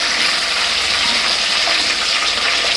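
Chicken pieces for Chicken 65 frying in hot oil, a loud, steady, close crackling sizzle that runs unbroken without pause.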